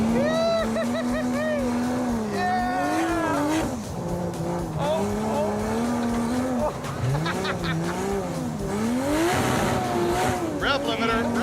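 A 1968 Dodge Charger with a 440ci V-8 engine, driven hard, rising and falling in pitch as it revs up and bangs against the rev limiter, loud and near, with people talking over it.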